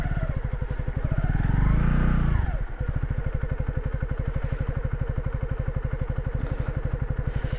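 A motorcycle engine idles with a rapid chugging beat, revs up sharply for a couple of seconds, then drops back to a steady idle.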